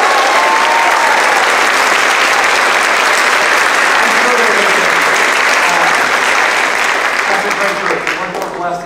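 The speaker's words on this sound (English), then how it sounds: "can we all just cheer for them?" A church congregation cheers and claps loudly for guests at a service. Dense, sustained applause with mixed shouts fills the room, tapering slightly near the end.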